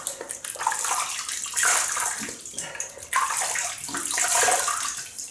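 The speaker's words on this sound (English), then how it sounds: "So I'll just wet the old face" Water splashes and sloshes in a sink as a face is wetted before shaving with Erasmic shaving soap, a close, continuous stream of splashing with brief surges and no talk.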